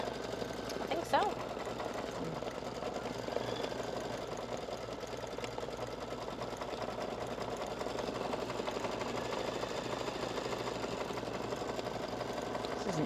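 An embroidery sewing machine stitches out a design, including satin stitching, with a continuous rapid mechanical whirring and tapping that runs steadily throughout, with people talking faintly over it.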